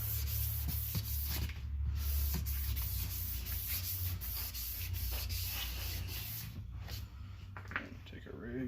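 A car headlight being wet-sanded by hand with 2000 grit sandpaper on a project Mustang, a continuous close rasping scrub that stays steady throughout, with a voice talking softly beneath it.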